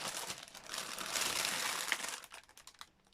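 Plastic packaging around paper doilies crinkles and rustles close by as the doilies are pulled apart, starting busy and sustained, then breaking into sparser crackles toward the end.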